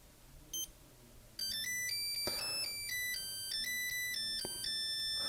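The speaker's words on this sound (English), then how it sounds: "I can actually get the alarm to tone or to melody, and then release" A thin electronic beep, then a vintage digital watch alarm plays a high, tinny stepped melody of rapid bleeping notes, close up.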